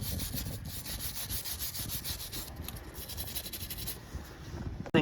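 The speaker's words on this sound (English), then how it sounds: "You can sand it down. Make it nice and shiny." A Toyota Venza wheel hub being sanded clean gives rhythmic, close, rough rubbing and scratching strokes that run steadily and then stop with a brief knock at the end. No one speaks.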